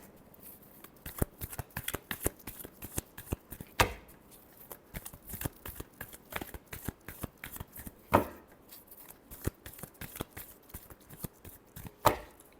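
Tarot cards being shuffled by hand, a steady run of quick papery riffles and taps close to the mic with a few sharper bridge-like flutters, no talking.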